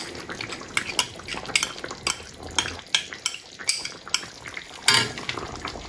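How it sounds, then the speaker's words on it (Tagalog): A spoon works through a pot of Filipino goat caldereta with cheese and condensed milk, giving repeated close clinks and scrapes against the metal in an uneven stirring rhythm over a soft bubbling background. "haluin lang natin siya."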